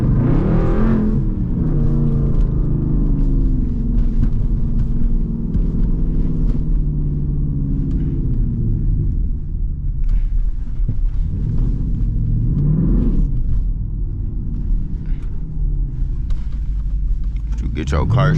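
A straight-piped SRT Jeep with a Hemi V8 rumbles loudly and continuously while driving, with a deep throaty drone and a few rising revs as it accelerates.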